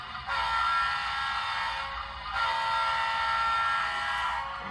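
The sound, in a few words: model train horn sounding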